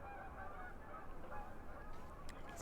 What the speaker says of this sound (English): Oh, there's a whole flock of geese going over.